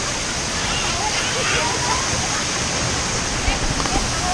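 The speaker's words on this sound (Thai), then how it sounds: "นี่ครับน้ำตกไส้สวรรค์นะครับ" Steady broadband rush of Sai Sawan waterfall in Thailand, a continuous close roar of falling water filling the whole span, with faint voices and small bumps mixed in near the end.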